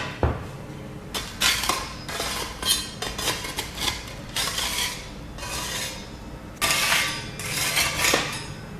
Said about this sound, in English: The goal in scraping the kiln shelves is to get any of that excess off